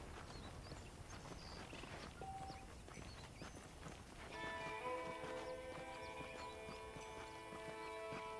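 Horse hooves clip-clopping in Red Dead Redemption, a steady quiet walking rhythm with a brief whinny early on, joined midway by a sustained tonal music layer.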